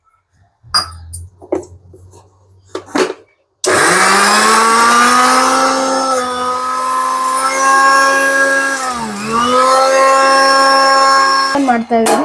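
Electric mixer grinder grinding grated coconut masala with a little water for a bottle gourd gravy, a loud steady whirring motor running continuously after a few seconds of talk and brief clatter, dipping once mid-run before stopping.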